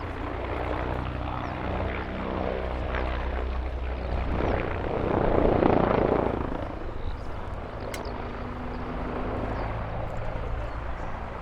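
An Agusta AH-129D Mangusta attack helicopter flying a figure-of-eight display at an air show, its rotor and turbine drone loud and steady from a distance, swelling briefly as it passes nearer, with faint commentary underneath.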